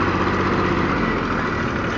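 John Deere tractor engine running at a steady idle close by, a continuous low rumbling drone with constant loudness and no voices.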